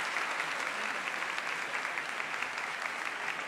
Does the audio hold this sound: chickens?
no